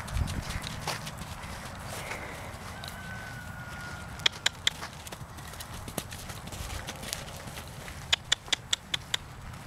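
A Foxtrotter filly's hooves clop steadily on the ground while lunging, with several sharper, louder strikes near the end over a low rumbling background.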